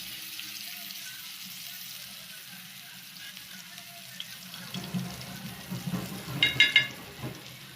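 Vegetarian fish fry pieces sizzle in a pan with a soft, steady crackle of hot oil, followed by closer scraping and clattering as they are stirred and turned.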